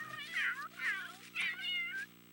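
A cat meows three times in quick succession, close and clear, each call rising and falling, with a faint steady hum underneath.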